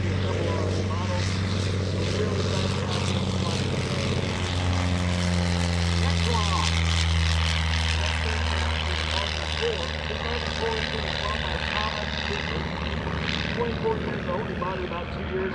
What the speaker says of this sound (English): That RV3 that just took off